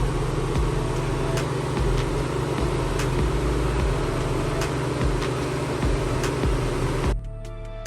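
A car engine running at idle with a steady low rumble and hum, plus faint regular ticks, continuing evenly until it drops away abruptly near the end.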